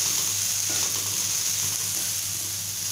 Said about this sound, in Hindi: जब तक हमारा प्याज अच्छे से गोल्डन ब्राउन नहीं हो जाता तब तक हमें इसे चलाते हुए भूनना है